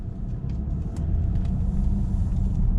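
Steady low engine rumble from a 2016 Range Rover Sport 3.0 SD V6 HSE 4x4 diesel on the move, a continuous smooth drone with faint road noise and a slight rise in level partway through.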